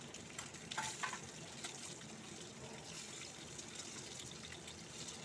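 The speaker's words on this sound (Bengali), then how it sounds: "যেহেতু ডিম তেলে ফোড়লে ফাটে, সেই জন্য ঢাকা দিয়ে" An egg fries in oil in a covered pan, giving a soft, steady sizzle and light crackle. It is faint and continuous, with no voices.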